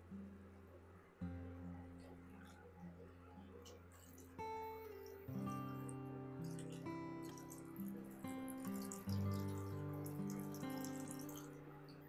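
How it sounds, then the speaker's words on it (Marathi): Water is poured gradually into a simmering Malvani-style surmai fish gravy made with the head and tail, a continuous trickling fill with rising ringing tones and a few brief pauses, heard close and alone. "आता यात आपल्याला हळूहळू पाणी घालायचंय।"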